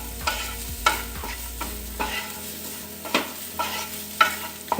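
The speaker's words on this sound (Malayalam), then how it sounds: "ഇളക്കി കൊടുക്കുക." Food sizzles in a pan for a Kerala-style bread snack with cheese, while a spoon scrapes and taps against the pan at a steady, repeated rhythm.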